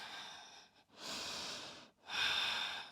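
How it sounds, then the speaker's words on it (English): Ujjayi breathing during a vinyasa yoga flow: two long, hissing, throaty breaths, close and soft, separated by a short pause, with no talking. "Maybe you're starting to wake up that Ujjayi breathing."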